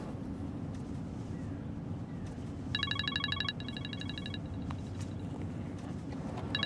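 An electronic phone ring in short repeating bursts, moderately loud over a steady low rumble of background noise, in the Turkish TV drama Üç Kuruş.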